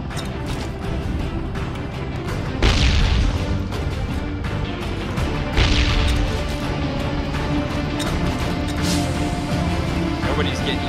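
Grenades go off in the game Ring of Elysium as a few loud, booming blasts spaced a few seconds apart, the first two heaviest, over ongoing game noise while players talk.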